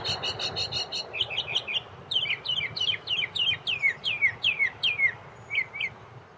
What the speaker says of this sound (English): Let's get back to that really cool bird called the Northern Mockingbird.